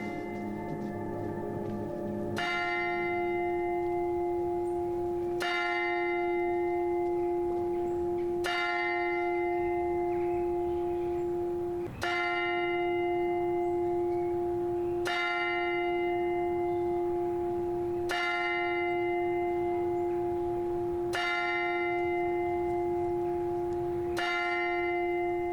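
A church bell tolls slowly and steadily, about eight strikes spaced roughly three seconds apart, each ringing with a long sustained hum that overlaps the next stroke.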